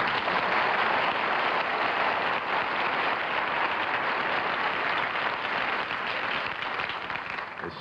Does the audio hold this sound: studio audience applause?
yes